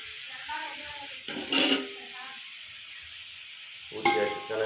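Onions with cinnamon and cloves frying in sesame oil for mutton biryani give a steady close sizzle and hiss, with a couple of louder bursts as the pan is stirred.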